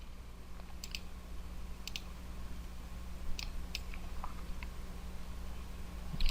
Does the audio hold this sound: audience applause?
no